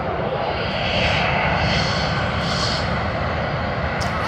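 A Vietnam Airlines jet bound for Ho Chi Minh City rumbles loudly at Sydney Airport, a dense sustained engine roar with a faint rising whine near the end.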